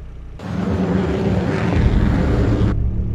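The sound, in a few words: airplane flying overhead in video game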